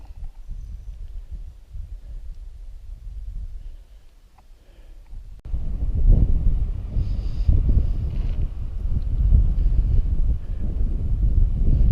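Gusty wind buffets the microphone on a hike into a canyon at Big Spring Canyon in Canyonlands, starting moderate and then growing to a loud, steady roar after about five seconds, with no talk.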